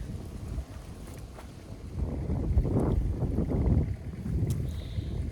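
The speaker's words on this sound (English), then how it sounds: "Hopefully you can hear me. It's really windy today." Gusty wind buffeting the microphone, a low rumbling roar that rises and swells midway, steady and close.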